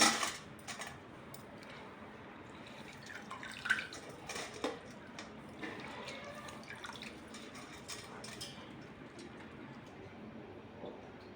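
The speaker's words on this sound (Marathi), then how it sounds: "हे आपण चाळणीवर आता पाणी निथरून घेऊ" Water drains from freshly washed rice set in a sieve, a faint, steady trickle with scattered drips, a couple of slightly louder splashes near the start, heard close in a quiet room.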